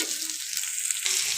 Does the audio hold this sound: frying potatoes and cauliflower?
yes